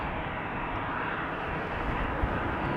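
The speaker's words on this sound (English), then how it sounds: "Now I see that there is a plane coming directly towards us." An EasyJet Airbus approaches Amsterdam Schiphol Airport on runway 36L Polderbaan, heard as a continuous, even engine roar that holds at a moderate, fairly close level throughout with no voices.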